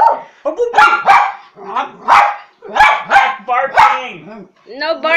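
A dog barks and yips repeatedly at close range in short, uneven bursts, mixed with whiny, vocal-sounding yowls, and no clear human speech.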